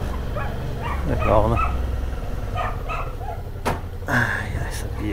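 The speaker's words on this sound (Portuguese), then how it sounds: "Cachorrinho fazendo festa pro dono que chegou." A small dog yips and barks excitedly in short bursts, greeting its owner as they arrive in the village of São Pedro, while a person talks over and between the barks.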